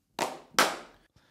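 Two crisp hand claps from the HandClap Studio plugin on its ribbon mic setting, loud and close with a slightly rounded tone and brief reverb, followed by a faint third tap.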